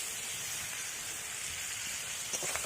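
Cauliflower sautéing in a pan gives a steady, close sizzle and hiss that holds through the whole stretch, with no talking over it.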